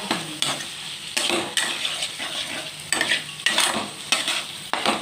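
Chicken mince with ginger is sautéed in a pan, with repeated rhythmic scraping strokes of a spatula over a continuous sizzle, close and fairly loud, with no voices.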